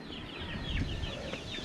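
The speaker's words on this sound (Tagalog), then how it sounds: "Yung manok yan" A chicken clucks several times in quick short bursts, fairly close, over a low outdoor background hum, with no voices.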